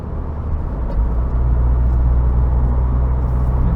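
A 2022 Subaru WRX is driven hard into a turn, a steady loud low engine rumble with road and wind roar building inside the cabin, no talking.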